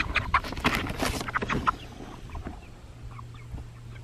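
Freedom Ranger roosters being handled for weighing give soft clucks and low gobbling calls with rustling and scratching, close but fairly quiet, busiest at the start and then fading to a faint hum.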